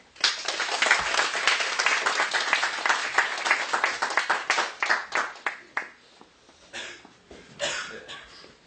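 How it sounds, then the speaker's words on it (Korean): A church audience at a Korean lecture meeting breaks into warm applause welcoming the guest speaker, a dense burst of many hands clapping that thins and tapers in scattered waves toward the end, with no talking over it. "앞으로 모실 때 큰 박수로 격려해 주시면 고맙겠습니다."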